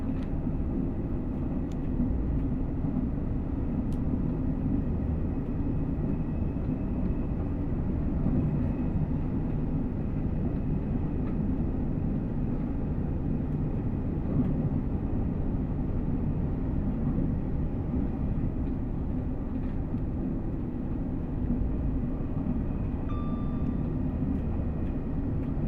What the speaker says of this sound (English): Another cargo train? That is another cargo train!